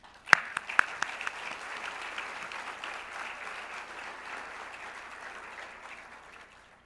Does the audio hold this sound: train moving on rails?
no